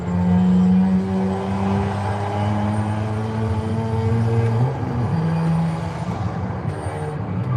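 Engine note of a car in Forza Horizon 5 held high in the revs with the tires spinning, a loud steady drone with sustained harmonics that dips slightly near the end.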